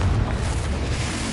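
The Confringo explosive spell cast in Hogwarts Legacy: a dense, booming blast with a roar that holds steady through the whole short moment, loud and close, with no voices.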